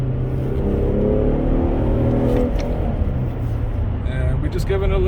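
A 2013 Infiniti G37 x out on a test drive: steady engine drone and road rumble fill the cabin, loud and continuous, under talk from people inside the car.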